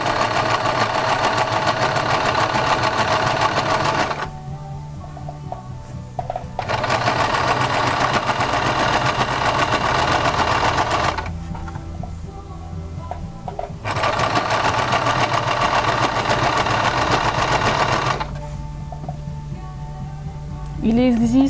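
A domestic sewing machine stitches piping onto fabric in three long steady motor runs of about four to five seconds each, separated by short pauses, close and fairly loud.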